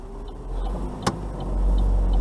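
Grey car passing on a road with steady traffic, a continuous mid-level engine and tyre rumble that swells slightly toward the end, with one brief sharp click partway through.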